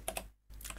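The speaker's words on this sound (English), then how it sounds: "So we open up the terminal and we type" Quiet keystrokes on a computer keyboard as a terminal command is typed, a couple of taps, a short pause, then a denser run of typing, close and soft.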